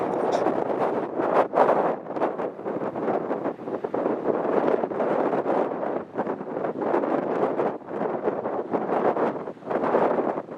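Hard wind pounds the corner outdoors in a forest, a constant loud rushing roar with gusty buffeting against the microphone throughout, no clear voices.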